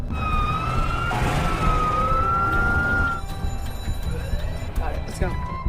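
A fire alarm siren wails with sliding, rising and falling tones, loud and continuous, over background noise and talking, then fades into other sounds.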